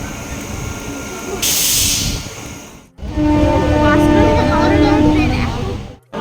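Rail carriages rumble and hiss on a passenger train journey from Contai to Tarakeswar, heard loud and close from on board. A steady rolling drone runs throughout, with a brief dropout near the middle.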